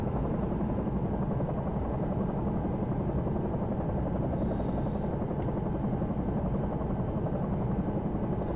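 Bell 222 air ambulance helicopter in the X-Plane 11 simulator, its rotor and turbine drone running steady and loud throughout with a dense low thrum and no talking.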